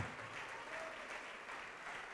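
A church congregation claps in a brief, dense burst of applause during a worship service, filling the room evenly without talk.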